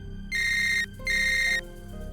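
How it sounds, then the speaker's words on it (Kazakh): A telephone rings at night, two long electronic ring bursts close together, clear and alone over a low background. "Расында, түннің бір ортасында біреу қоңырау шалды."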